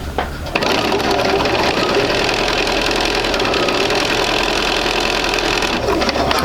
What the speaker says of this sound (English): And I do like to sew from the 90-degree triangle straight down to the 45.